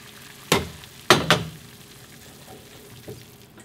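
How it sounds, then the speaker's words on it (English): Halved onion and dried shiitake mushrooms dropped into boiling water for a spicy Korean beef and vegetable soup, three sharp splashes and sizzles close by followed by fainter bubbling, with no voices. "Let's add this to the boiling water."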